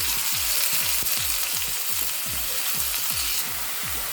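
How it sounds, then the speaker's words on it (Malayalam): Small pieces of pineapple frying in hot ghee, a steady loud sizzle with a rapid run of soft popping crackles throughout, close by and with no talk. "ഞാനിതിലേക്ക് നമ്മൾ നേരത്തെ റെഡിയാക്കി വെച്ചിട്ടുള്ള ചെറിയ പീസില്ലേ കൈതച്ചക്കയുടെ അതിട്ട് കൊടുക്കുകയാണേ."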